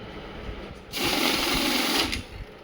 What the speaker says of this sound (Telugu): పీస్ నోట్ కౌంటింగ్ మిషన్ ఇది 25 పీసెస్ వస్తుంది చూపిస్తుంది.